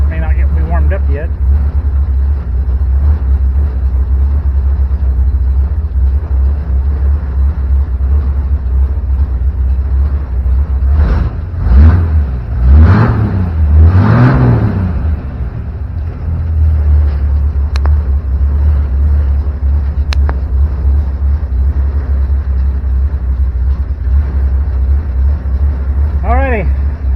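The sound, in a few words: 1964 Mercury Comet engine idling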